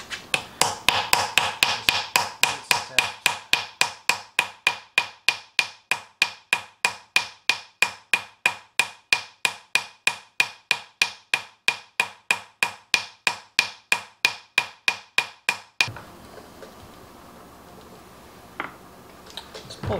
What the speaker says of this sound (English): take a really small hammer, try to pull out on the flywheel with my hand.